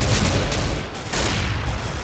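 Grenade explosion and heavy gunfire in a video game, a loud, dense roar of blasts and shots filling the whole two seconds.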